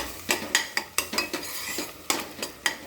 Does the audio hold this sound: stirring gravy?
yes